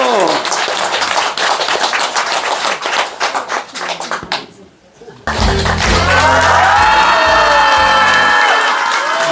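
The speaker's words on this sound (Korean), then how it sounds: "박수." Audience clapping and cheering at a Korean religious broadcast gathering, with a dense crowd roar in the first half, a brief lull, then loud music and voices over continued crowd noise.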